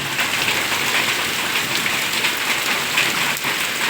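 Steady, dense rain pours down without pause, drops pattering hard across a wet courtyard nearby; no voices.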